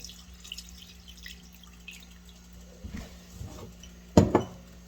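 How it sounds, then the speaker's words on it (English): Milk being poured into a pot for loaded potato soup, a soft liquid splashing and trickling with a couple of louder sloshes near the end, close and fairly quiet with no talking. "We'll go ahead and put in our milk."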